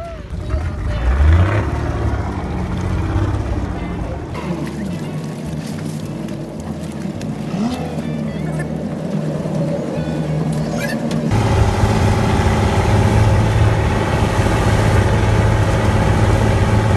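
Large boat engine running steadily at close range off Boracay Island, a continuous low rumble with a brighter, louder engine tone in the last few seconds, with faint voices mixed in.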